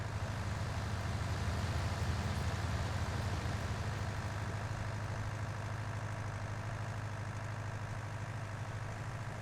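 A tractor engine idles in Farming Simulator 19, a steady low rumble that runs unbroken and fairly loud on its own, with no talk over it.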